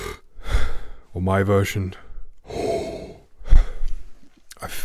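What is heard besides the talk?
brass player's deep inhalation, tense then relaxed versions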